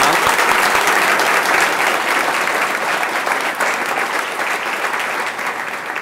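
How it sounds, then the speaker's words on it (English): A speaker-series audience claps warmly and continuously, a close, even wash of many hands that eases slightly in loudness toward the end. "Let's give a big round of applause for Manaz."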